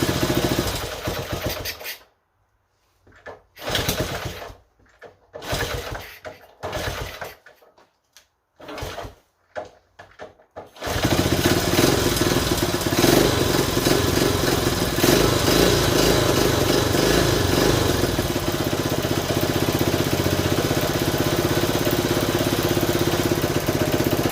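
A Honda Trail 90 motorcycle engine sputters through several short, choppy attempts to start, then catches and runs steadily at a close, rattling idle for the rest of the stretch.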